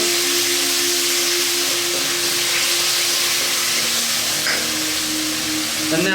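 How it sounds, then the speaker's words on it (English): Chili paste with oyster sauce sautéing in a pan for Sri Lankan cooking, a steady loud sizzle and hiss filling the whole stretch with faint clinks of stirring. "We're going to saute this for just a few seconds."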